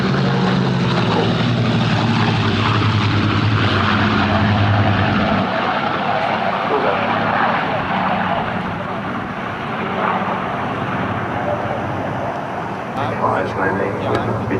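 Vintage propeller aircraft line up to land at the Duxford Flying Legends air show, their engines droning steadily at a moderate distance and fading slightly, with a voice talking over the sound.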